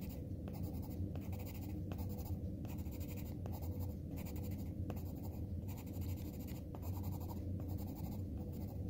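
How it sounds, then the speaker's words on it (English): Pencil shading textures onto paper for DIY Thanksgiving pine cone stickers: a steady, continuous close scratching with rhythmic back-and-forth strokes, each pass briefly pausing, heard alone without talk. "Now you can take your pencils and do different textures no matter which way you go."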